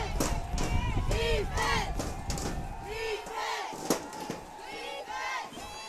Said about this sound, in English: Hudson crowd making a little noise up here.